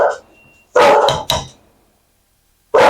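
Dogs barking indoors, one brief yip followed by a pair of loud, close barks, then silence before another bark begins.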